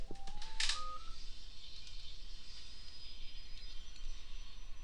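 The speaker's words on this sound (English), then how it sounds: "that's my phone ringing" A mobile phone ringtone plays briefly near the start as a short electronic melody of a few tones, then gives way to a steady background hum.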